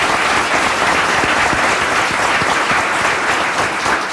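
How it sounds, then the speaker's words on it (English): Audience applause at a council swearing-in ceremony for a police and fire honor guard, steady dense clapping from a full room sustained throughout without talk. "Let's give both groups a great round of applause."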